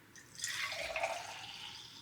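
Pumped breast milk is poured into a container, making a soft, steady trickle that lasts about two seconds, heard close up and quiet, with no talking.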